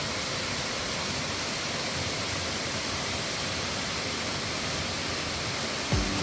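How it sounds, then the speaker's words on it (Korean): Three-tier waterfall in Chilseon Valley on Jirisan, water falling down three drops totalling sixty metres, heard as a steady, broad, unbroken roar without variation. "3층 폭포는 60m에 이르는 3개의 층을 따라 물줄기가 떨어진다고 하여 붙여진 이름입니다"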